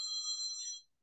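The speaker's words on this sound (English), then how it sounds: "phone's driving me up the wall" A telephone rings indoors with a steady electronic ringtone, moderately faint, sounding for under a second before cutting off, with no talk over it.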